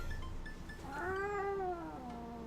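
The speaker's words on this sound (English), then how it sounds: "Look, chat, a cat." A cat in the video game Dream Daddy lets out a single long, drawn-out meow that rises and then falls, clear and moderately loud over faint background sound.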